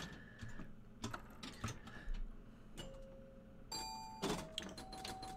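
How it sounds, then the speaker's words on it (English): Soft bell chimes from hitting the moving spot target in the Monaco virtual pinball table by Segasa, 1977, ringing out a few times among faint ticks and mechanical clicks of play, quiet and without talking. "when you hit that moving spot target, it makes that nice bell sound"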